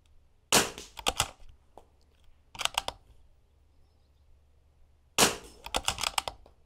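A rifle fires during an NRL22 match stage: sharp cracks in quick clusters of two to five, separated by short pauses, close and loud over a quiet outdoor background.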